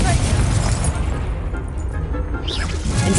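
Confringo explosive spell blast in Hogwarts Legacy, a loud close booming burst with a rumbling tail and a fresh impact near the end, over dense battle noise.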